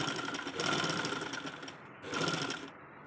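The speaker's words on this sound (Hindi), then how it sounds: "ऐसे सिलाई लगा लेंगे पक्का करते हुए" A sewing machine stitching a round neckline on a garment, two bursts of rapid whirring stitching separated by a short pause, fairly quiet and close.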